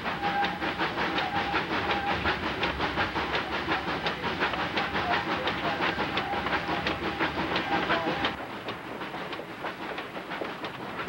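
Steam train on the ET&WNC Tweetsie line climbing a gorge, a dense steady rumble and clatter of rolling wheels heard from close beside the boiler, easing slightly toward the end.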